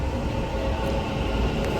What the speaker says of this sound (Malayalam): ഇനി ഇത് ട്രെയിൻ പോവാണ്.